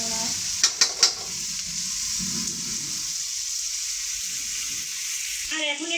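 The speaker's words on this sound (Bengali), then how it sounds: "এখন এগুলো একটু লাল লাল করে ভাজবো" Food frying and sizzling in a pan, being browned for a home-style curry with a steady hiss, a few sharp scraping clinks of stirring near the start, and a brief rattle at the end.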